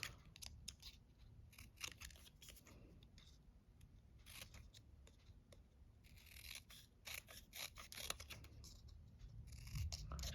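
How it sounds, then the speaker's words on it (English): Scissors cutting a paper happy-birthday sentiment from beige cardstock for a handmade card: quiet, close, irregular snips and rustles spread over ten seconds, with no talking. "So I'm just going to cut with my scissors"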